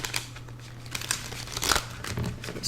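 A stiff new tarot deck is shuffled with crisp, papery riffles and crinkling snaps, the cards bent as they go, quiet and close with no talk.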